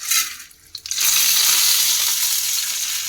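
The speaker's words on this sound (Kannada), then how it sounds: "ಮಸಾಲೆ ಐಟಮ್ ಫ್ರೈ ಮಾಡ್ಕೊಳ್ಳೋಣ" Chana dal and urad dal hit hot oil in a pan, setting off a loud, steady hiss after a short quieter moment with a few light clinks; the sizzle stays close and continuous, with no talking.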